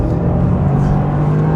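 A 2024 Toyota GR Yaris engine hums close and steady while braking, with a slight rev-matching swell in the middle, loud and continuous throughout.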